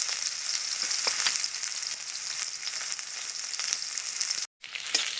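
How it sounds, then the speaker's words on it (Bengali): Chopped onions fry in mustard oil with dried red chili and whole cumin in a wok, making a steady, close hissing sizzle with a few soft crackles and one brief cut near the end. "পেঁয়াজটা হালকা ভেজে নিয়েছি"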